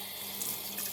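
Felt being rinsed under hot and cold tap water in a sink: a steady, close rush of running water throughout, with no voices.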